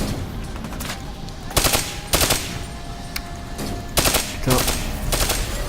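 Automatic gunfire bursts from the Call of Duty: Black Ops 3 video game, with several loud rapid volleys spaced a second or so apart over a steady game background, and a player briefly swearing.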